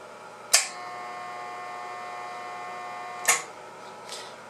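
A steady electrical hum with bright harmonic tones from an RCA 833A triode vacuum tube 20-meter SSB amplifier holds throughout, broken by a few sharp clicks, one at the start and two more near the end.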